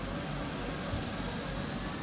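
Loud, steady roar of an aircraft engine in the Carrier Command 2 video game, a broad continuous jet-like rush with no pauses or talk.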